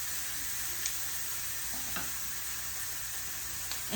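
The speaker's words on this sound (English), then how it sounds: "You hear the sizzle?" Pork browns in a spray of vegetable oil for slow cooker tacos, giving a steady close-up sizzle that runs evenly throughout, with only faint clicks and no talking.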